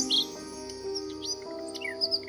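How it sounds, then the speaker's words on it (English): Mechanical fake nightingale singing a melody of bright chirps and trills, continuous and clear over a steady tonal hum, with no one talking. "Everyone in the court was relieved to have the fake nightingale, to which they listened again, regaling themselves with its melodies."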